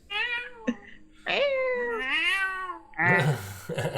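A cat meows several times up close, with long, whiny, rising and falling cries broken by brief gaps, ending in a rougher, scratchy burst.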